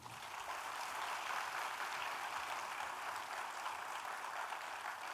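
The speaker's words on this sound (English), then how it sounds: "Let's welcome each other with a big round of applause." Conference audience applauding at a sustainability conclave in Mumbai, a steady, even wash of many hands clapping that holds for several seconds, moderately distant and not very loud, with no voices on top.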